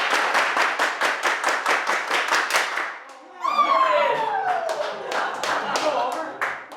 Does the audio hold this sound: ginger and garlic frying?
no